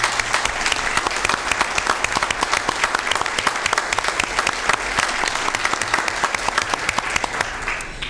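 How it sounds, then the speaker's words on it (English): A county board of supervisors meeting audience applauds itself, with dense, sustained clapping from a sizable crowd that stays loud and steady for several seconds. "So let's give yourselves a round of applause."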